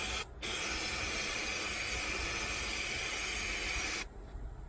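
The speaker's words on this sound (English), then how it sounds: "I can spray this up in there with the number 90," A can of number 90 spray adhesive hisses in one steady, loud burst of about four seconds while coating a 1977 Chevy truck headliner, alone with no talk, starting and stopping abruptly.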